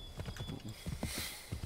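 Horse hooves clip-clopping in Assassin's Creed 3 Remastered, a quick uneven run of hoof beats at moderate volume, close by, with no talking over them.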